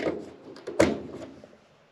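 A single sharp pop as a car's fuel filler door springs open, with some soft handling noise before it and fading after.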